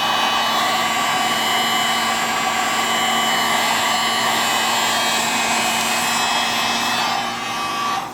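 Heat gun blowing hot air onto an iPad Mini digitizer, a steady loud whooshing hiss with a constant motor whine, unbroken and close.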